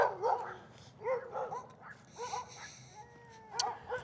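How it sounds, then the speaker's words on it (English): Neighborhood dogs barking in the evening during a game of fetch, several separate barks and yips in short bursts, fairly close, with a faint whine between them. "playing some fetch with the dog, riling up some neighbor dogs"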